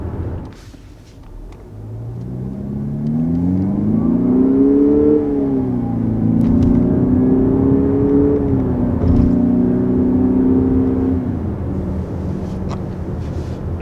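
A 2021 Lexus NX 300 F-Sport accelerates smoothly from inside the cabin, its engine hum climbing in pitch through gear shifts and settling, steady and moderately loud with road rumble beneath.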